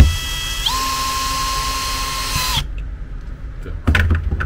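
A power screwdriver drives a self-tapping screw into an EVA bed actuator under repair, a close whirring whine that shifts pitch once and stops after about two and a half seconds, followed by a few brief handling knocks.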